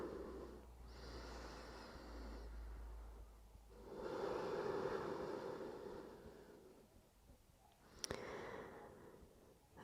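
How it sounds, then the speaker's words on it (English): Slow, deep breathing during a relaxing yoga session for sciatica relief, with long soft inhales and exhales spaced several seconds apart, close and quiet, with a brief sharp sniff near the end. "let's take about 3 or 4 more lovely deep breaths here and try and really relax"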